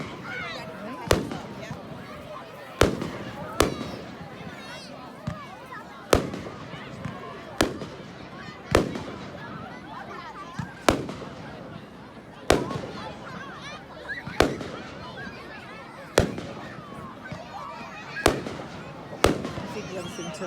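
A Bonfire Night fireworks display at a large carnival in Stalbridge crackles with a dozen or so sharp distant bangs at irregular intervals, each trailing into crackling, while people talk throughout the crowd.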